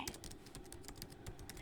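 Soft, quick typing on a computer keyboard in a quiet ASMR setting, a close, steady patter of light key clicks running through the whole short stretch.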